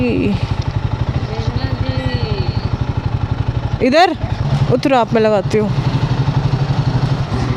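A motorcycle idles close by with a steady low engine rumble while it is moved and parked beside a car at a roadside, with people talking over it.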